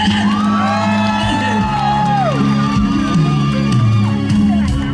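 A loud crowd at an outdoor concert at the Donggang bluefin tuna festival in Pingtung, Taiwan, cheers, whoops and shouts together, with music-like tones running underneath the noisy excitement.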